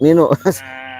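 A person's voice imitates a cow with a short, wavering moo-like call broken into a few bleating pulses, close and loud, followed by quieter background tone.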